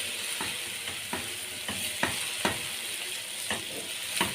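Onions fry in a pan for an Egyptian baked egg omelette. A soft sizzle runs underneath while a spoon scrapes and knocks against the pan in a regular rhythm, roughly every half second.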